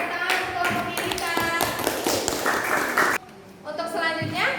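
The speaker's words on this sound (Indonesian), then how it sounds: "tepuk tangan untuk kelompok kita" Classroom applause for a student group: dense rapid clapping from a room of pupils, steady for about three seconds, then a brief drop before a voice speaks over a fresh burst of claps.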